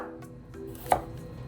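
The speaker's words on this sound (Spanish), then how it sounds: "Seguimos con la zanahoria, también en rodajas." A knife slices a carrot into rounds on a cutting board, giving a single sharp, close chop against quieter background sounds, with no voices.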